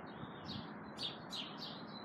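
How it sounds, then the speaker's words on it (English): Wild Mexican parrots, about ten of them, call from a kumquat or loquat fruit tree, sharp squawks and chirps heard faintly from a distance over soft background hiss. "We call them parrots, Mexican parrots."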